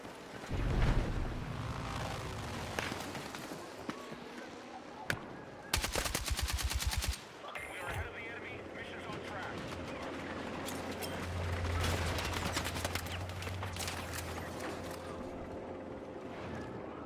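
Video game gunfire in a space battle, with rapid bursts of machine-gun shots, one very dense volley in the middle, and a rumbling engine-like background throughout.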